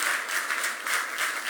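Church congregation at a baptism service clapping together, a dense, even wash of applause filling the room, fairly loud and continuous with no voices over it.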